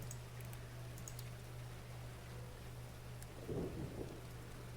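Video game rain patters steadily in the background while a low rumble of thunder rolls in near the end; no voices.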